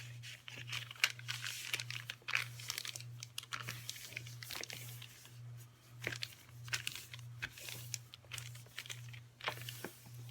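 Paper being burnished and pressed flat for a mini bag, with soft scattered crinkles and rubbing strokes close up, quiet, over a steady low electrical hum.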